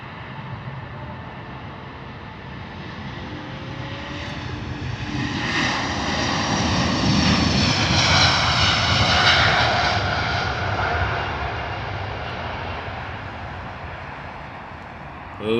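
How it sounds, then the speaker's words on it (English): A Virgin Atlantic Airbus A330-900 departing Heathrow for Seattle, its engines building to a loud, sustained roar that peaks midway and then slowly fades as the jet climbs away. "Lovely departure, Virgin Atlantic and out to Seattle, A330-900."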